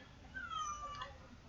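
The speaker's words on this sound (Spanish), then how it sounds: "Ahora empezó el gato." A cat meowing faintly in the background during a class, a single thin, high, drawn-out cry lasting about a second over low room noise.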